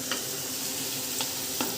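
Finely ground onion-coconut paste frying in a pan for a paneer curry, a steady close sizzle broken by three distinct scraping stir strokes, no one speaking.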